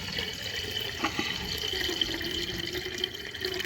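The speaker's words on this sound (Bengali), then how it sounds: "এই দেখুন জলটা ফেলে দিলাম," Cloudy water left from washing rice is poured away in a steady, close splashing stream that runs without a break.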